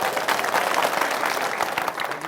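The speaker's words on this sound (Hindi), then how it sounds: "तालियां बजाए जो मानते हैं।" An audience at a Hindi-language public debate claps together in agreement, a dense, even patter of applause lasting just over two seconds with little else heard.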